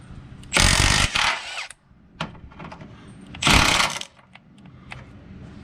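Impact wrench driving out 17mm bolts on a 2006 Honda Pilot during AC compressor replacement, two loud roughly one-second rattling bursts separated by quieter clinks and handling noises.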